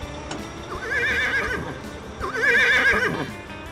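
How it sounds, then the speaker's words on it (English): Horses in a field, passed by a tractor, give two clear whinnies fairly close by, each a wavering neigh lasting about a second, over a low background rumble. "The tractor's now driving through the horse field. You can hear the horses."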